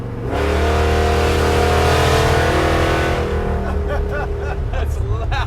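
A nitrous-equipped muscle truck's engine roaring loudly under hard acceleration at highway speed, a sustained close-up drone that shifts pitch partway through, with voices breaking in near the end.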